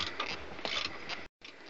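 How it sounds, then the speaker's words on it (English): Ratchet wrench driving a 13mm tube socket on the bolts of a Yamaha VXR personal watercraft, a close run of rapid mechanical clicks that halts briefly, then resumes. "I'm using a tube socket."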